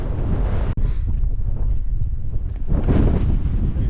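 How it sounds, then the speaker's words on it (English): Wind buffets the microphone on an exposed slope of Beinn Ghlas, a 1103 m Scottish Munro, as a loud, continuous rumbling roar that dips briefly before surging back stronger, with no voices. "as you can hear there, we're a bit more exposed to the wind"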